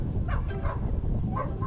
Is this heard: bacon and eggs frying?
no